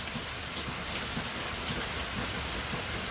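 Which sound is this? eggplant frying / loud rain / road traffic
loud rain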